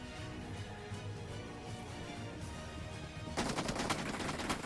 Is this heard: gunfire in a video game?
yes